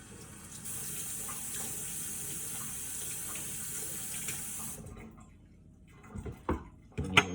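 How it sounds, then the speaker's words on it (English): Cold tap water runs steadily into a sink while celery stalks are washed under it, then the flow stops and a few close knocks and drips follow, with no talking. "you're going to take 6 stalks of celery and you're going to wash it under cold water like this"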